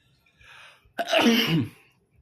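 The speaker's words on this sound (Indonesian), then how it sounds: "Tiba-tiba bersin." A single sharp sneeze bursts out after a short intake of breath, close and fairly loud, then quiet.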